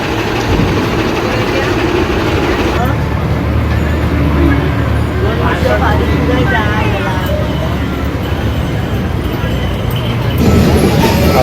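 A state transport bus at a village bus stand pulls away, its heavy diesel engine rumbling and idling low throughout, with people talking nearby and a rise in engine noise near the end.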